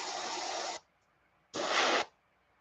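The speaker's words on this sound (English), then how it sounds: "So I'm gonna go ahead and spray a little more green on the very top here" Two bursts of spray paint, green, hitting the top of a fishing lure being painted as a black crappie, each a steady close hiss lasting under a second with a short quiet gap between.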